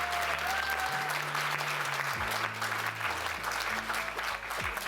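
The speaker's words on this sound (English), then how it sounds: "A round of applause for the Global Campus." Dinner guests at an end-of-year recognition event give a round of applause, a steady wash of clapping from the room over a low background hum, moderately loud and continuous for several seconds.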